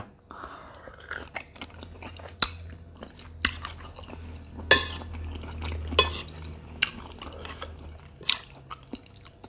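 Close crunchy chewing of spicy young tamarind salad with raw shrimp, wet bites and smacks repeating in an uneven rhythm, with light clinks of cutlery and dishes in between.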